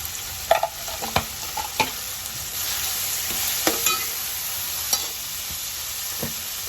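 Chicken fries in a pan with salt, turmeric, chili and ginger paste, a constant bright sizzle broken by a string of sharp spoon scrapes and clinks from stirring, close and fairly loud.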